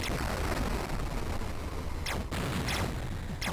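Rapid gunfire from a player ship blasting a boss in the Amiga-era shoot-'em-up SWIV, a dense continuous barrage with repeated sharp zaps and booms layered over busy game music.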